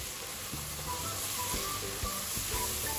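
Ginger garlic paste for a vegetable biryani frying in a pan: a faint steady sizzle with a few soft knocks and scrapes from stirring, close and quiet, without speech.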